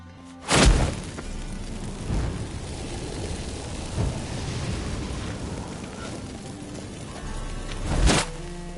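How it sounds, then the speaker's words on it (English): Incense sets off magic fireworks in The Witcher 3 game with a heavy booming blast. A long rumbling crackle follows, then a second sharp boom near the end. "Get ready for some magic fireworks."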